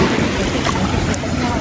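Ocean waves wash and churn at a beach while someone sits in the water, a loud, continuous rushing roar mixed with wind buffeting the microphone.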